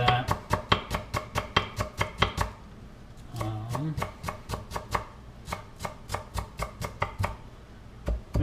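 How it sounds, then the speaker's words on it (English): A knife chops scallions on a cutting board in quick, crisp, regular taps, pausing briefly while a person speaks, then resuming in another steady run of close, sharp chops. "I'm going to chop up some scallion."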